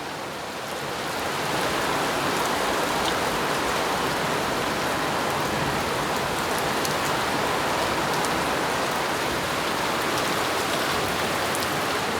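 Heavy rain from a passing storm pours down steadily, a dense, loud hiss that swells within the first two seconds and then holds constant with scattered nearby drop impacts, no voices.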